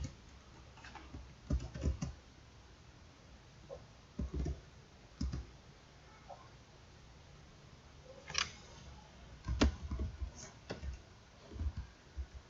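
Someone types on a computer keyboard to enter data, with irregular clusters of crisp key clicks separated by short pauses, recorded close and fairly quiet.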